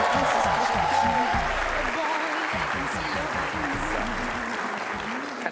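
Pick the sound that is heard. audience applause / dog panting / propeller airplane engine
audience applause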